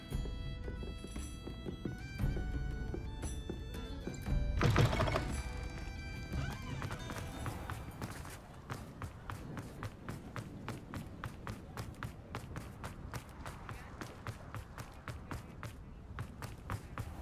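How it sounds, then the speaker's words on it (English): Heavy stamping footsteps from a creature in the Hogwarts Legacy video game, a steady run of regular thudding clip-clop steps over music and game ambience, with one louder crash near the start. "All your heavy stamping about is going to damage my frame."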